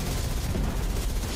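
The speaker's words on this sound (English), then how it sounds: "Stupid explosions." Explosions in the video game Tom Clancy's The Division 2 during a civic center mission, a dense, continuous rumbling roar of blasts and debris that stays loud and steady without a break.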